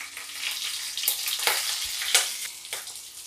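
Ginger with dried and green chillies frying in hot oil for chilli prawns, a steady close sizzle with crackling bursts and a few louder spits, no talk.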